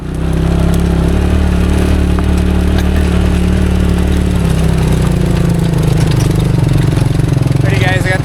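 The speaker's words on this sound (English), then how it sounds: "Tractor behind me." A tractor engine runs steadily in a field being planted for a deer food plot, a loud, constant low rumble with mechanical clatter close to the microphone, with no pauses.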